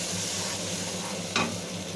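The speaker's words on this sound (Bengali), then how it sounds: "গুলে রেখেছিলাম জল দিয়ে হলুদ গুঁড়ো, লঙ্কার গুঁড়ো, জিরের গুঁড়ো ও ধনের গুঁড়ো, সেটা দিয়ে দেবো এর মধ্যে। দিয়ে কষিয়ে নেব ভালো করে।" Spice paste of turmeric, chilli, cumin and coriander ground with water sautés in a pan for a mixed small-fish curry, giving a steady close sizzle with one brief stir or scrape midway.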